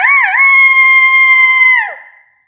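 A person's voice mimics a rooster's crow, delivering one loud, close, drawn-out call with a quick rising wobble near the start and a falling tail before it cuts to silence.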